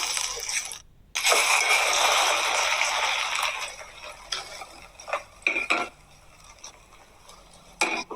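A spatula scrapes and taps in a pan as a frying egg is flipped over low heat, with steady sizzling for a few seconds before it fades into scattered sharp clicks and scrapes.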